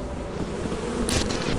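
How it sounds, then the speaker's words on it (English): Bees buzzing in the horror game Lethal Company, a continuous low droning hum close by, with a brief hissy burst partway through. "Oh, there's bees."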